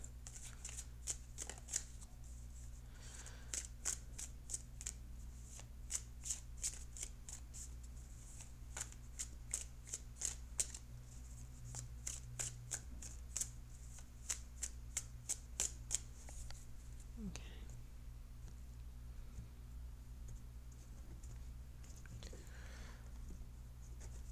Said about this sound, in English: So I will shuffle the cards